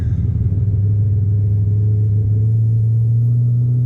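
A deep, steady rumble from a cammed Chevrolet Corvette Stingray (C7) V8 idling up close, loud and low with a slightly lopey pulse throughout.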